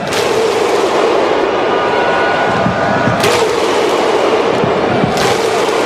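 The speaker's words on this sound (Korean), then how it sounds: "비아르드 나손에게 울려 퍼지는 아이슬란드 팬들의 이 천둥박수, 슬로우 핸드클랩" Iceland fans at a World Cup match perform the thunder clap, with massed stadium crowd noise and two sharp, booming unison claps several seconds apart rising above the roar.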